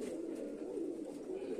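Racing pigeon landing at the loft after a 14 km toss, with a steady low cooing of pigeons close by throughout, soft and continuous.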